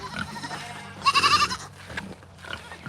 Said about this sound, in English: these are my escape artist goats